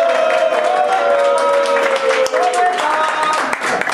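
A crowd at a club meetup in Prostějov applauds visiting guests from Slovakia with steady, fairly close clapping and cheering, while voices carry over the top.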